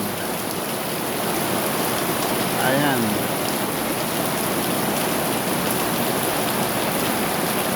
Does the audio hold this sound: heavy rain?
yes